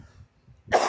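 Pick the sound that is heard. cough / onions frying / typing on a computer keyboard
cough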